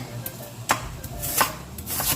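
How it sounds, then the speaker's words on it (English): A knife chops through half an onion on a cutting board in a home kitchen, with several sharp, irregular thuds spread across a couple of seconds, fairly close and alone with no talk. "I am going to cut up this onion"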